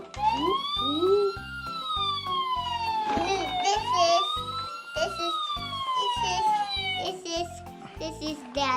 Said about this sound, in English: The ambulance is Leyna's?